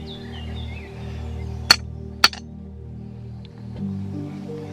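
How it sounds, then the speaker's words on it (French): A small hammer taps a stake holding tomato plants into the soil of a permaculture vegetable garden. It gives two sharp, close metallic knocks about half a second apart over a low steady hum. "Vous prenez de préférence un petit marteau pour taper dessus"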